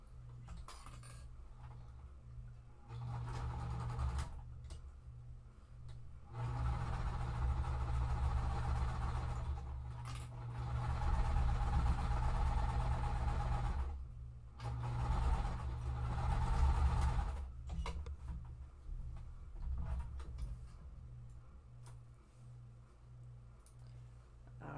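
A sewing machine stitches quilt pieces in several bursts of steady mechanical whirring, separated by short pauses, close and fairly quiet.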